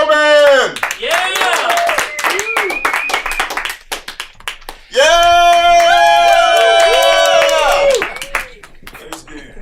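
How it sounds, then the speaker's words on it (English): A comedy club crowd claps and cheers as the comedian Willie Holmar is introduced, with loud whoops and shouted voices over scattered clapping, a brief lull, then another burst of cheering that fades. "Give a round of applause to Willie Holmar!"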